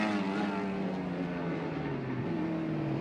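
A race car in Gran Turismo GT1/GT2 accelerates uphill, its engine whining in a rising, harmonic-rich tone that holds steady and fairly faint, with no talk over it.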